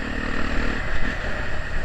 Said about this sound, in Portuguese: é um escape muito gostoso, velho, de ficar ouvindo